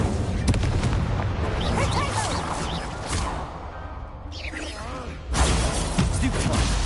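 Incendio fire spells cast during a Hogwarts Legacy battle, loud booming bursts and crashing impacts layered in a busy, dense combat mix, with a brief lull before another heavy blast.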